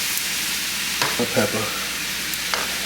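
Alfredo sauce of garlic and heavy cream is stirred in a hot pan under a steady sizzle, with a few soft scrapes. A voice speaks briefly partway through.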